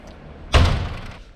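The powered passenger door of a Higer Super 9, a 9-metre rear-engine coach, shuts with a single close, solid thud and a short fading rattle.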